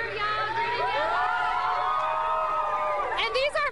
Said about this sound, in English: Let's all cheer, y'all.